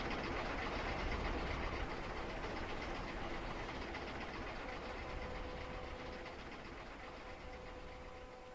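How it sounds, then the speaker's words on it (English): In a train video game, the locomotive engine Oliver pulls a line of cars with a continuous rumble and faint rhythmic clatter, steady at moderate distance and slowly fading, with no talk. "if Oliver does end up struggling to pull this train"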